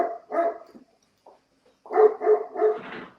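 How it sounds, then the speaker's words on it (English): A puppy yips and barks nearby in short bursts, two quick barks, a pause, then a faster run of three or four barks trailing into a whine. "Somebody has a puppy dog going there."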